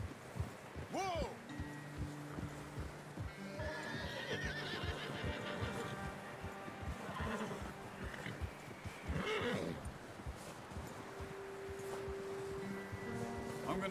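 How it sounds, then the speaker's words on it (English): Horses whinny and neigh with clip-clopping hooves in the Red Dead Redemption 2 video game, set against a busy camp backdrop with voices talking throughout the scene. "I'm gonna hitch Taima over here."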